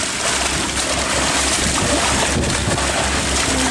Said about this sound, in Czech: Zase fouká.